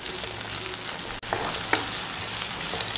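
Onions sizzling steadily in hot oil in a pan for a sea fish curry (chepa pulusu), a dense continuous fry hiss with a brief dropout midway, close and alone without talk.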